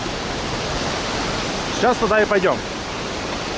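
Floodwater from the Salgir River in Simferopol, overflowing its banks into Gagarin Park, makes a steady broad rushing roar; someone speaks briefly over it near the end.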